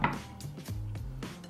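A knife chops a large onion into coarse pieces on a board, giving a few close, dull wooden knocks spaced irregularly with no talk.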